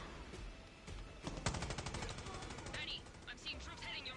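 Rapid bursts of video game gunfire in Far Cry 6, clustered shots and automatic fire crackling over a few seconds, fairly close and sharp.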